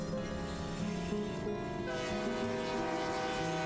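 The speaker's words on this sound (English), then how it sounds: "let's actually stop this train" A train in a video game grinding toward a halt, with steady rumbling and tonal squealing, sustained and fairly close without talk.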